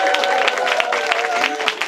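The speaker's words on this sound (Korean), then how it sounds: "박수 한번 부탁드리겠습니다" Audience applause at an arts segment of a climate change and Silhak forum, steady continuous clapping filling the whole stretch with crowd noise and a voice over it.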